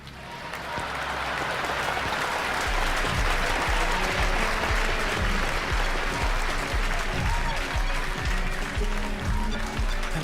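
Sustained applause from a concert audience at a livestreamed album release party, dense steady clapping that swells in over the first second and holds evenly throughout, with a faint voice underneath.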